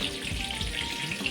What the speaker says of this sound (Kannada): ಸೊ ನಾನು ಇದಕ್ಕೆ ಜೀರಿಗೆ ಸಾಸಿವೆ ಮತ್ತು ಟೊಮೆಟೊ ಹಾಕಿ ಫ್ರೈ ಮಾಡ್ತಾಯಿದ್ದೀನಿ.